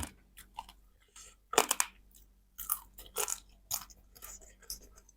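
Someone eats spicy papaya salad with crab. Close, crisp crunching bites and chewing come in irregular bursts over a quiet background.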